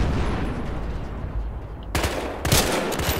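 Gunfire from the multiplayer shooter video game Battlefield Hardline, a burst of rapid loud shots breaking in after a stretch of ambient game noise, then a second sharp volley.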